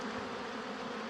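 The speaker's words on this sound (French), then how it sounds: "Et là, il y a les abeilles qui sortent là-bas au bout." Steady, dense buzzing of many honeybees at a hive entrance close by, a continuous humming drone with no pauses or voices.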